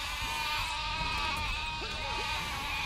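Sheep in the Overlord video game bleat loudly and repeatedly over a steady bed of background game sound.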